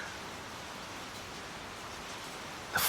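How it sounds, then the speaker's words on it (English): Soft, steady rain pattering on leaves in a misty forest, a faint hiss of dense drops with no distinct rhythm, ending in a brief brighter burst. "The forest lay dark and quiet, covered in mist, with the soft tapping of rain on the leaves."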